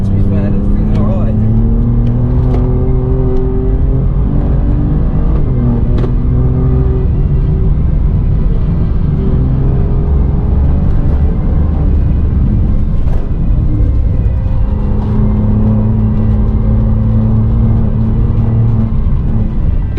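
An Alfa Romeo Giulia Quadrifoglio on a lap of the Nürburgring is heard from inside, its engine loud and continuous, revving up and down through gear changes under road and wind roar, with a voice talking over it.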